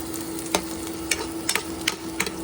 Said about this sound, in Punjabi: ਇਧਰ ਆਪਾਂ ਮਸਾਲਾ ਭੁੱਜ ਗਿਆ